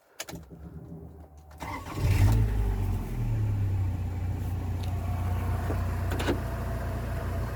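A Rover 45 car engine with a CVT gearbox cranks and catches after a moment of quiet, then settles into a loud, steady idle rumble.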